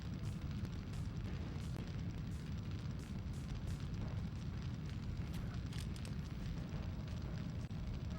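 A steady, faint crackling roar of fire burns in the Tex Murphy video game, continuous and unbroken with small pops scattered through it.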